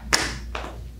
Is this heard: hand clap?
yes